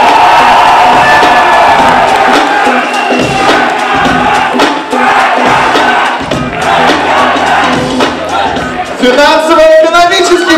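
A large crowd at a university Knowledge Day concert roars, cheers and applauds loudly and continuously, with shouts rising over the din and a voice calling out near the end.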